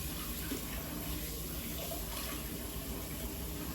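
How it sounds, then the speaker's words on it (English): Running tap water pours steadily over a handful of fresh blueberries being rinsed at a kitchen sink, a continuous broadband splashing rush with no break and no talk. "1 handful of the blueberries I'm gonna wash."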